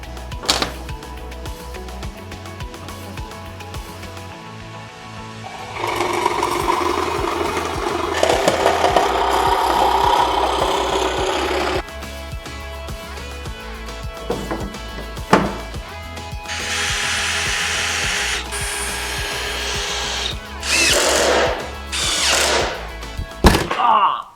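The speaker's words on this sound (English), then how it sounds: "I'm just going to cut a 2x4 notch out of each of the 4 corners of this board" A power tool cutting 2x4 notches into the corners of a wooden board: loud sustained whining cuts in several stretches, separated by quieter pauses with clicks and handling knocks, no talk.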